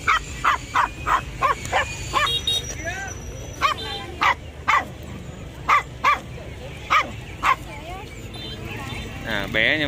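A small dog at the Bac Ha dog market in Vietnam barks loudly and sharply, about a dozen close barks in a fairly even rhythm, with faint market voices in the background.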